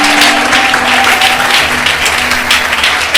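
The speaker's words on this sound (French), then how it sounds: "Acclamons très fort le Seigneur." A church congregation claps and cheers loudly and continuously in praise, a dense wash of applause with crowd voices layered over a low sustained organ or keyboard tone.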